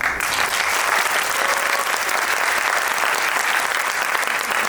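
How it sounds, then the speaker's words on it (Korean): Loud, steady applause from a large cinema audience at a film screening talk, continuous clapping filling the whole stretch without any pause. "다시 한번 뜨거운 박수 부탁드립니다."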